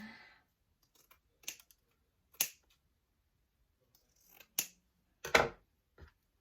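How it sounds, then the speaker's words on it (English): A few sharp, separate snips of scissors cutting ribbon for a Dollar Tree carrot basket decoration, quiet and close, with short pauses between cuts. "cut the ribbon"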